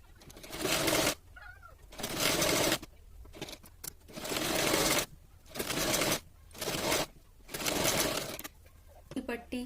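A sewing machine stitches along the edge of a princess-cut blouse in several loud bursts of running, each a few seconds long, separated by short pauses of handling noise.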